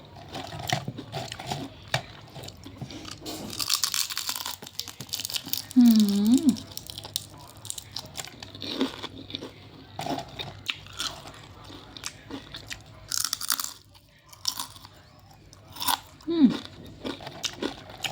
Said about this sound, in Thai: แป้งเขากรอบอ่ะ กรอบแล้วก็ ไม่ขมนะ กรอบกรอบ